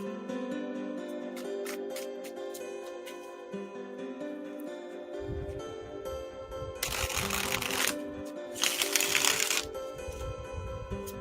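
Tarot cards are shuffled with soft ticking riffles followed by two louder, longer bursts of rapid card flutter, close up over a quiet hum.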